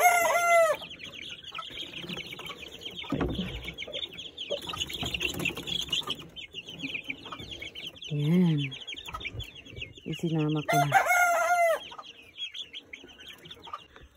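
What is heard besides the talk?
chickens clucking and crowing on release into ranging area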